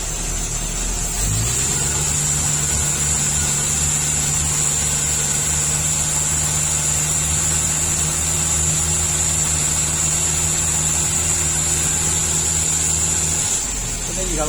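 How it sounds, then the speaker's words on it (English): A car engine running in the open engine bay, heard up close as a loud steady hum that rises as it is revved a little and holds, then drops off near the end. "Let me just rev it up a wee bit so you can"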